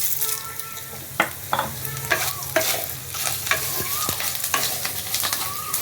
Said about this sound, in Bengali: সমস্ত উপকরণগুলো দিয়ে আমি ভালো করে একটু নেড়ে চেড়ে নিলাম